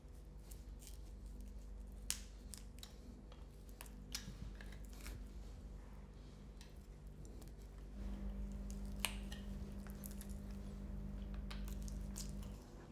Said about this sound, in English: I'm going to use my boning knife